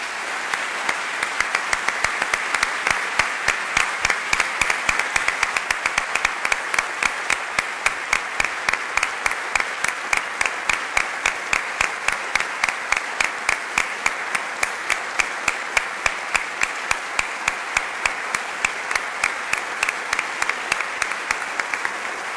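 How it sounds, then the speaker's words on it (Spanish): Loud, sustained audience applause at a talk on reporting the El Mozote massacre, a thick steady roar of clapping with the hands falling into a fast, regular rhythmic beat almost the whole time. "Hoy solo les pido que nos unamos en un aplauso para Javier"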